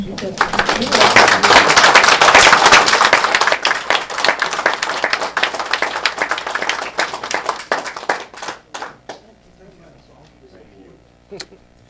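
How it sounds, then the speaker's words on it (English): An audience gives a round of applause to World War II veterans at a morning gathering: loud, close clapping that peaks early, then thins into scattered claps and fades out. "Let's give them a round of applause."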